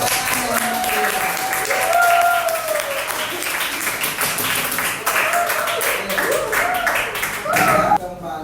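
Classroom applause from students after a series and parallel electrical circuit demonstration, a dense steady patter of clapping lasting throughout with some voices and cheering mixed in.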